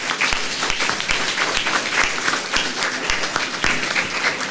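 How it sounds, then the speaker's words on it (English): A crowd claps loudly and steadily, a dense continuous round of applause throughout. "Let's give the students a big round of applause once again."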